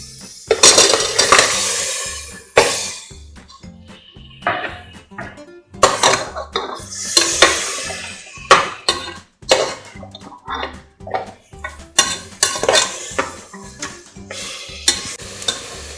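Half a kilo of mutton is stirred and sautéed with ginger garlic paste in hot oil for mutton chukka, with a metal spoon scraping and clinking against the pan in repeated bursts over a steady sizzle, close and fairly loud.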